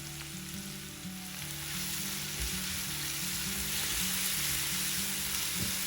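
Ginger and green chili paste fries with onion in oil for a raw banana fry, making a continuous close sizzle and hiss, with a low rhythmic hum running underneath.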